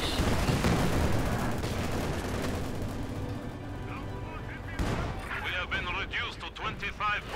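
Field gun artillery fire and other battle gunfire in Company of Heroes 2, a dense, loud barrage under a commentator's continuous talking, thinning out toward the end.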